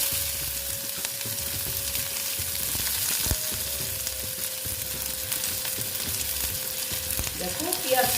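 Chopped onion sizzles steadily in hot oil in a pan while a spatula stirs it now and then, giving close, continuous frying noise with scraping strokes and faint clinks near the end.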